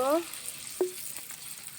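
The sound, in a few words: chopped onion frying in oil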